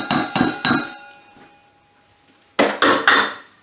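Ripe frozen bananas mashed for banana bread muffins: three firm, evenly spaced thumps with a ringing pan or bowl tone, a pause as the ring fades, then three more strokes, close and loud, with no talking.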